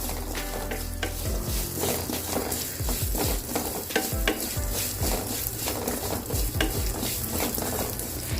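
Salna ingredients, including coconut, sauté in a pan over a medium flame, with a steady close sizzle and quick, repeated scraping stirs throughout, and no talking.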